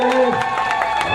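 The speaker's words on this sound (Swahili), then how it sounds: "Makofi ya vigelegele." A crowd at the Uhuru Torch launch of a new building in Handeni applauds and ululates together, with rhythmic clapping and high trilling cries mixed with shouting, loud and close throughout.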